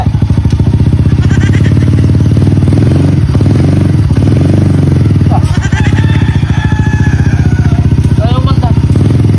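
A motorcycle with a flat rear tire runs steadily and loudly throughout, its engine drone clattering near the mic while voices talk over it in the second half.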